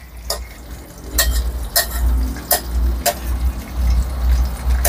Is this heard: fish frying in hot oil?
yes